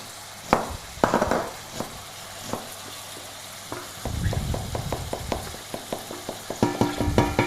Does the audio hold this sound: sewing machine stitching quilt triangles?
no